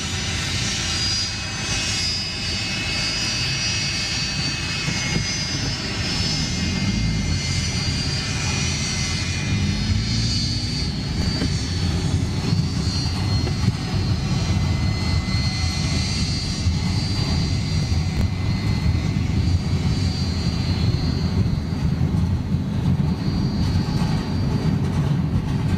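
A Vietnamese Boeing 747 cargo jet arriving at Frankfurt airport, its engines a steady, fairly loud roar and whine that holds throughout without talking.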